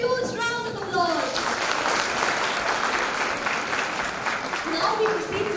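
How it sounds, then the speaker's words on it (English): An audience at an inter-school cultural competition claps steadily in a sustained round of applause, with a few voices rising over the clapping. "please give our performers a huge round of applause"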